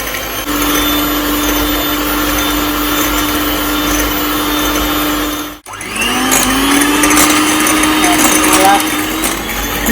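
Electric mixer whirring loudly as it beats a spoonful of sugar into a mixture for a soft cake, a steady motor drone that cuts out briefly and restarts, with a voice speaking over it.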